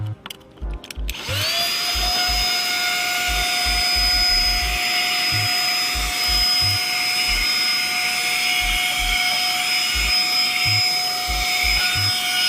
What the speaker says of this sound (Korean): 집에 있는 청소기로 요거를 빨아주시기만 하면 됩니다.